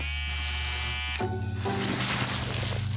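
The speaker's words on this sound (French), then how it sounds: "Laissez-moi essayer ce rasoir laser, Marc." Cartoon laser razor buzzing steadily and loudly, a synthetic electric-shaver drone that shifts pitch partway through, with no talking over it.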